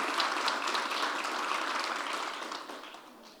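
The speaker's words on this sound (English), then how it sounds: "start off by giving yourselves a round of applause" A gathered audience at a hospital grand opening in Florida claps in a dense, fairly quiet burst of applause that holds steady and then fades toward the end.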